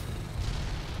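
A dense, rumbling video game explosion fills the whole moment, a continuous roaring blast with no pauses or voices.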